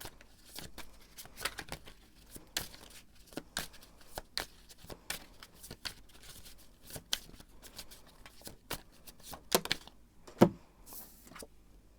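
Tarot cards are shuffled repeatedly in quick, crisp riffles and snaps, close and fairly quiet, with short pauses between bursts.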